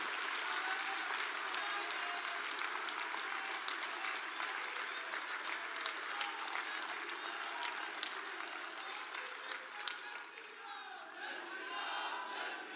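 Sustained applause from a large audience at a BJP national convention welcoming the Prime Minister, a dense, steady clatter of clapping with crowd murmur running throughout, fairly distant and uniform in level.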